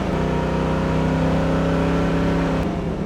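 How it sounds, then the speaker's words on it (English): A 1969 Chevrolet Camaro engine pulls hard under acceleration, a loud, steady close-up drone with strong low harmonics that holds throughout before easing slightly near the end. "Car has great acceleration."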